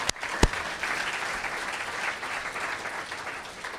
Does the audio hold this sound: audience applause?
yes